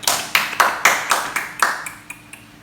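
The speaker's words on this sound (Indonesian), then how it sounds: "Kita berikan dulu tepuk tangan pada temannya." Schoolchildren in an elementary classroom clap for a classmate in a slow, loud, unison rhythm of about ten sharp claps, spaced evenly and fading slightly toward the end, close by.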